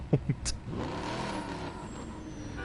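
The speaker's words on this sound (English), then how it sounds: "It's a race car." A video game race car engine on PS4 drones steadily after a couple of brief voice bursts, a smooth, buzzy motor tone holding at moderate volume.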